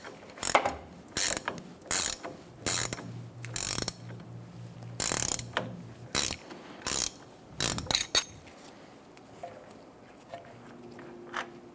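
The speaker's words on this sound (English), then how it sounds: "Using a 21mm socket, remove the nut for the outer tie rod." A hand ratchet with a 21mm socket works the outer tie rod nut on a 2014–2018 Chevrolet Silverado 1500, giving repeated bursts of close, sharp clicking separated by short pauses and then quieter fiddling at the end.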